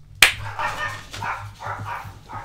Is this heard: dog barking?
yes